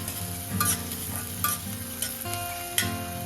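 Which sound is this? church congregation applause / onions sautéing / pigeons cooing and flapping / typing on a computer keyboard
onions sautéing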